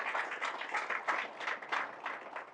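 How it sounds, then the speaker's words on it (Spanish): A church congregation claps during a sermon, the hands striking in a quick, regular rhythm of pulsing bursts, moderately loud and heard without speech over it. "Fuerte ese aplauso al Señor Jesús, que ya nos dio la victoria"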